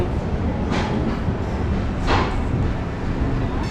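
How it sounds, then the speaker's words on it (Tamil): Train 12685 from Chennai Central to Calicut pulls away, a steady rumbling roar of rolling wagons with a couple of brief hissing surges, heard from inside the coach without talk. "இந்த ட்ரெயின் இப்போ ஸ்டார்ட் ஆகிடுச்சிங்க"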